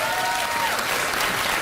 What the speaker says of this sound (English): Why did they applaud?